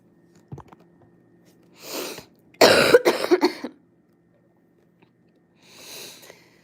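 A few short, sharp coughs in a quick burst, close and fairly loud, between quieter breathy sounds in an otherwise still room.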